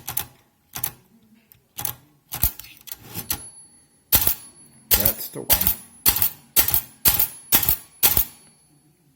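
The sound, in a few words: typewriter keys being struck after fixing stuck keys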